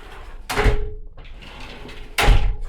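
An RV shower door on a 2022 Keystone Arcadia 3660RL latches into its travel lock, giving two sharp knocks a couple of seconds apart, close and fairly loud, with a faint ring after the first.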